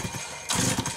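A Homelite 330 chainsaw engine, run without choke or throttle latch, idles briefly and then surges into a louder rev halfway through, staying close and steady to the end of this short burst.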